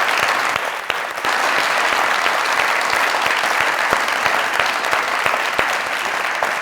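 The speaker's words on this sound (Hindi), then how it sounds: "जोरदार तालियां।" Studio audience at a Pakistani comedy talk show bursts into loud, sustained applause, a thick wash of clapping with a few sharper individual claps standing out, no talk over it.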